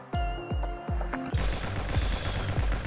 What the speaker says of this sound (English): it's time to bring in the assault rifle